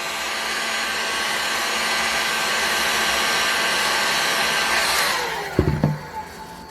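A heat gun blows a steady, loud whirring hiss while warming the bearing area of a Thunder Tiger F54S model engine, then shuts off and a few light clunks follow.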